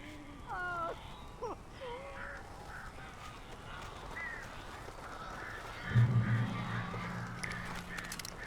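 Crows in the video game Alan Wake Remastered let out a few harsh, wavering caws close together at the start, then the calls fade into a low ambient rumble with a brief louder thump.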